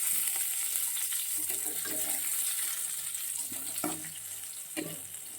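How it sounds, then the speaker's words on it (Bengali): Steady sizzling of vegetables frying in a pan, a continuous crackling hiss with a few soft clinks, no voices. "এখন দেখুন তারপর ভাজা বসিয়ে দিয়েছি।"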